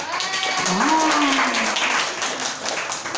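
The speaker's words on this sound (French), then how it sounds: "Mais ils applaudissent, là, regarde" An audience applauds in a broad, steady wash of clapping while a voice talks loosely over it, the clapping filling the whole moment without a clear break.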